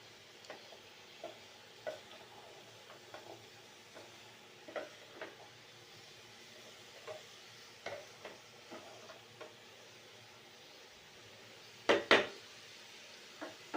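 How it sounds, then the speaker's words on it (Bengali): A spatula scrapes and stirs chicken gizzards in a pan over medium heat at a steady, unhurried pace, with soft sizzling underneath and a couple of sharper clanks near the end. "এটাকে এখন আস্তে আস্তে আমি সুন্দর করে কষিয়ে নেব"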